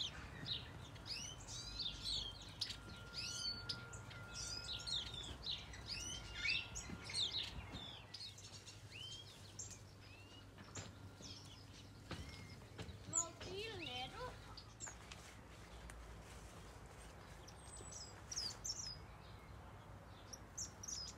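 Finches and softbills in a shrub-filled aviary during breeding season, near their nesting box, chirp and tweet in quick bursts, busiest at the start and again midway, over a quiet outdoor hum.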